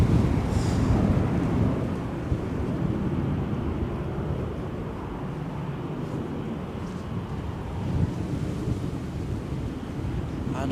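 Gusty wind at Edinburgh Airport roars and buffets the microphone in a dense low rumble, with the distant drone of a departing airliner buried inside it, loud and steady with a brief swell near the end.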